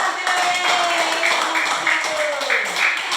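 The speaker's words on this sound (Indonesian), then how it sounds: "tepuk tangan dulu" A second-grade class in an Indonesian language lesson claps their hands together, rhythmic clustered claps over a short stretch with a voice speaking alongside.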